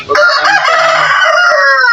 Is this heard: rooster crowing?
yes